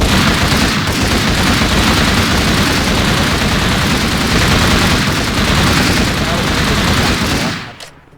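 Continuous rapid automatic gunfire from a Minecraft survival server, loud and dense, hammering on without a break for about seven seconds before cutting off abruptly.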